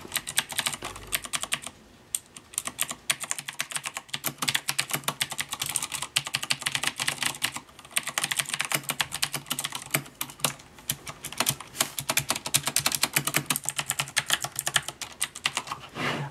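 Someone types on a Corsair mechanical keyboard fitted with Cherry MX Blue switches, producing rapid, crisp, close-up clicking in continuous bursts with brief pauses, and no talking.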